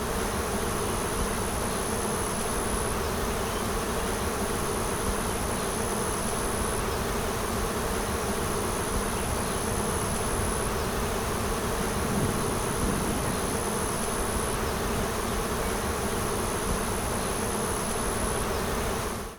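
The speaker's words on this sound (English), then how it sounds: "the Bee Commander noticed a swarm forming up in the trees" A wild honey bee swarm buzzes 50 to 60 feet up in the trees, a dense, continuous droning hum that stays steady and loud throughout, with no voices.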